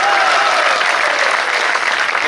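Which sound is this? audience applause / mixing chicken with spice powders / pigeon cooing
audience applause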